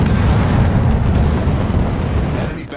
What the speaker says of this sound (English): Destroyer blown up.